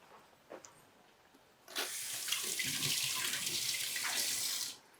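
Someone washes their hands under a running kitchen tap: a brief knock, then a steady, fairly loud rush of water for about three seconds before it shuts off.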